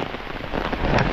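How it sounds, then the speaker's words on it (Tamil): Heavy rain pours down in a dense, unbroken hiss of drops hitting surfaces, steady and fairly loud, swelling slightly toward the end with no voices. "செம்ம மழையா இந்த மழைன்னா சும்மா அந்த மாதிரி மழை, உடையும் பறக்கிற அளவுக்கு மழை பெய்யுது"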